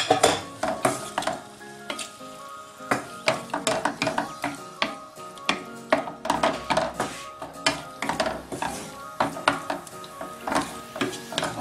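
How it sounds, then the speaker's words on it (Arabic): White fish pieces sizzle in hot oil with a spiced mixture for a fish pastilla. Close, rhythmic stirring scrapes and clatters run steadily over the frying hiss, with no talking. "ودابا غادي نديرو الحوت البيض هبرة"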